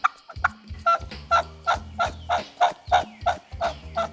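A wild turkey gives a run of about ten nasal early-morning yelps, evenly spaced and fairly close, each a short raspy note with brief gaps between.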